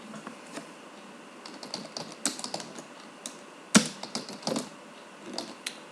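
Clicky computer keyboard typing in MS Word while adding footer text, with irregular bursts of keystrokes and a heavier key strike near the middle, close and fairly clear, no voices.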